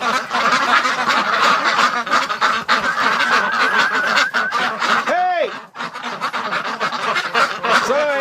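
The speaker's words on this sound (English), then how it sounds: "They're very upset ducks." Ducks kept indoors in a cabin during cold weather quack loudly and continuously, a dense agitated chorus filling the room, with a brief lull near the end before the calls resume.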